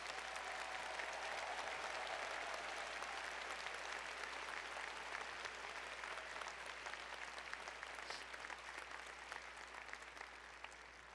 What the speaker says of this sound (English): Please join the Dean in a round of applause for all our doctoral degree recipients.